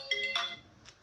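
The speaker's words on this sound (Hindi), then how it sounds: "बेटा एक बार ये आप देखना फोन किसका है।" A mobile phone ringtone chimes faintly in a classroom-style setting, a brief bright electronic melody of a few quick tones lasting about a second, distant and alone.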